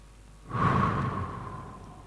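A person draws in one long, deep breath during a self-hypnosis mindfulness exercise. The airy inhale swells in after a quiet start, stays close and soft, then slowly fades over about a second and a half.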